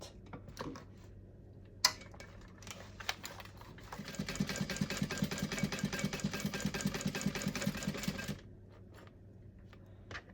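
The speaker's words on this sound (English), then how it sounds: "I'm gonna sew it bigger than a 1/4 inch because I want it to fit really good inside of the pocket" A sewing machine stitches the edge of a vinyl pencil pouch in a steady, fast run of needle strokes for about four seconds. Quieter handling clicks come before and after it, and no one speaks.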